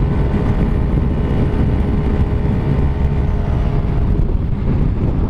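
A Honda XRM Fi motorcycle engine drones continuously while riding, its steady buzzing hum heavily buried under loud wind rush against the microphone, with no speech.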